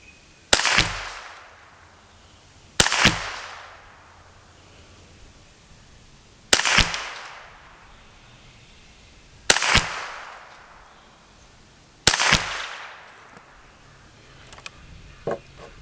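Five sharp rifle shots from a Kidd 10/22 fired off a shooting bench, spaced roughly three seconds apart, each a loud crack with a short decaying tail, no talking between.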